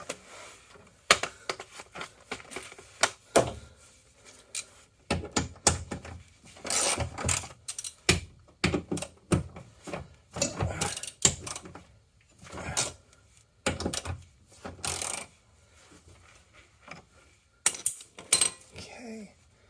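Metal tools clink and rattle against bolts while removing parts during a Subaru WRX engine swap, a series of irregular close clanks and scrapes with pauses between bursts.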